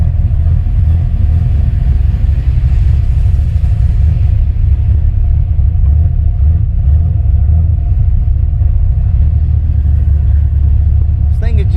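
A car fitted with a CFI Enforcer carburetor-style fuel injection system is driven, its engine putting out a loud, continuous low rumble that holds steady throughout.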